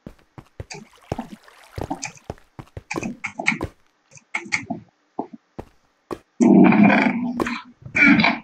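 A dog in the video game Minecraft growls and grunts in short, close bursts, with louder rough stretches toward the end.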